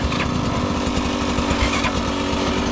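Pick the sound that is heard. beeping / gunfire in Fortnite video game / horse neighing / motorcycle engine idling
motorcycle engine idling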